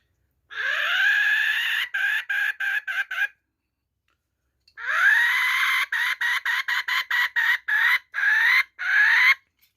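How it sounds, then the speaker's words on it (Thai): A shrill one-hole Thai chicken-call whistle blown in a long rising crow followed by rapid choppy clucking bursts, repeated twice with a pause between, loud and close. "อันนี้เป็นตอดไก่ครับ ตอด ไก่หนึ่งรู นะครับ"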